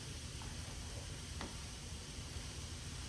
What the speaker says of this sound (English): It's already sizzling pretty good.